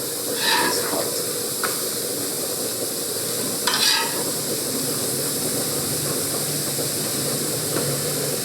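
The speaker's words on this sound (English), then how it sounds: "so you can put the onion in there. The pan is hot." Onion dropped into a hot pan for an arrabbiata sauce hisses with a loud, continuous sizzle, swelling in a couple of brief bursts as it is moved around.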